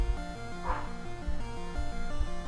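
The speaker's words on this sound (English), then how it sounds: "And why is my dog up there barking?" A dog barks a few times in a short, yappy run, set back from the mic and partly covered by a looping chiptune melody from a Pokemon Green game.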